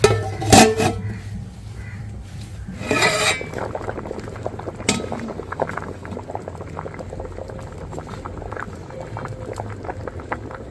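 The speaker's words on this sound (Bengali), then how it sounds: "ঢাকনা দিয়ে দিচ্ছি।" A couple of sharp metallic clanks as a lid is set on a pot of khichuri, then steady bubbling of the liquid simmering underneath.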